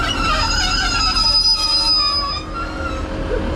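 A Class 150 diesel train pulling away from Blackburn station with long squealing wheel tones over a low engine rumble, loud and close, easing slightly toward the end.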